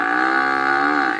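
A buffalo gives one long, sustained moo, loud and close, holding steady before it tapers off at the end, with no voices or other sounds alongside it.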